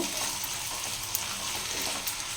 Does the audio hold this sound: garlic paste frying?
yes